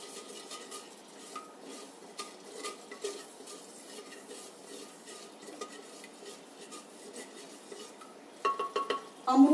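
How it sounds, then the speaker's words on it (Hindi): Spices temper in hot oil in a home-kitchen pan for a simple homemade dish, a faint continuous crackle with light utensil clinks, swelling into louder sputtering bursts near the end. "ये देखिए इसमें ये डल गया है और ये छौंक बन गया है।"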